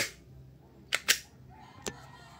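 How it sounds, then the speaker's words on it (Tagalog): A WE G17 airsoft pistol fires three sharp snapping shots, two in quick succession and one a moment later, against a quiet background. "Second magazine, WG-17 mag dump firing."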